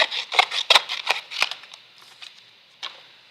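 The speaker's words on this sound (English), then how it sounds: "Luckily I have 10 pairs of scissors here" Crisp snipping of scissors close up, a quick run of about seven cuts, then fainter, sparser snips trailing off.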